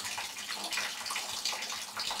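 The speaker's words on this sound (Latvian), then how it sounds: "Kaut kas tur pil visās vietās." Water leaking and pouring down at several spots indoors, a steady broadband rush and splatter that continues without a break, fairly loud and close, with no voices.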